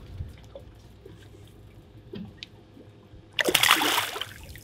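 A redfish released back into the water after being caught, ending in a loud burst of splashing near the end after quieter drips and small water sounds.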